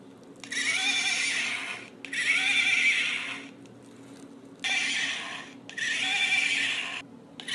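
Pink 1993 Barbie Allegra toy horse giving four electronic whinnies as its saddle is pressed, each a bright neighing burst of about a second with short quiet gaps between, close and clear with no talk.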